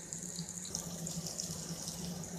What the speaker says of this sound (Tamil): தண்ணியை சூடு பண்ணி இதில் ஊற்றிடலாம்